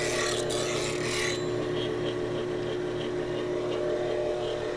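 A hand plane blade is ground on a grinder, giving a continuous raspy grinding hiss with a steady motor hum underneath. The first second or so is louder and rougher before it settles into an even drone.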